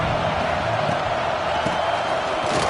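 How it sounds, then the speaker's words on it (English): A dense, steady roar from a football stadium crowd at a Washington vs Clemson college game, broad and constant with no clear swell, filling the space without pause. "this crowd is turning it up a notch"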